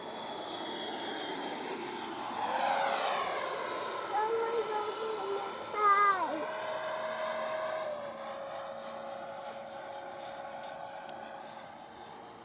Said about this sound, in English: Have to be careful around planes.